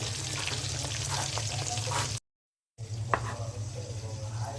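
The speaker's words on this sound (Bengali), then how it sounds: "বেগুন ভাজা হচ্ছে," Eggplant slices fry in a pan with a steady, close hiss and crackle, interrupted by a brief silent gap before the sizzling resumes.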